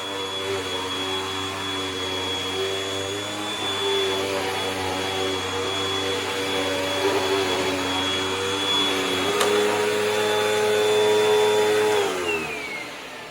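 A Hoover Rewind vacuum cleaner runs loud and close with a steady high whine and rattle, holding pitch for several seconds before winding down at the end.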